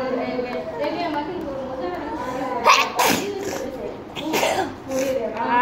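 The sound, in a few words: sneezing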